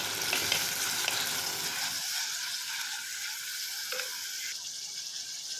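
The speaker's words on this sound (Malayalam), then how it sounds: "ഇനി നമുക്കൊരു ചട്ടി അടുപ്പത്ത് വെച്ചിട്ട് ഇതിലേക്ക് നമ്മൾ നേരത്തെ അരിഞ്ഞ് വെച്ചിട്ടുണ്ടായിരുന്നു തക്കാളിയും പച്ചമുളകും ഇട്ട് കൊടുത്തിട്ട് നല്ല രീതിയിൽ നിറച്ചെടുക്കാം" Chopped tomatoes and green chilies frying in a pan sizzle loudly at first, then settle into a softer, continuous hiss, with a brief clink of a utensil partway through.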